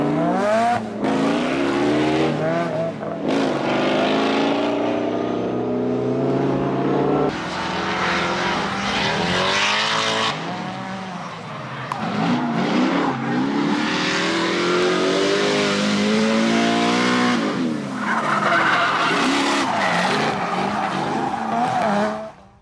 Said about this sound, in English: Solstices make great drift cars.